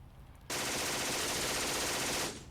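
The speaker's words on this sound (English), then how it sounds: "So machine gun fire ineffective because they were suppressed" A sustained burst of machine gun fire from UK forces in the tactical war game The Troop starts abruptly, holds steady and loud for about two seconds, then cuts off and fades.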